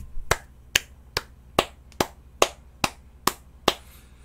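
A round of applause after a sales count is announced at a call-centre team gathering, heard as nine sharp, evenly spaced claps or snaps, fairly close and clear with no talking over them.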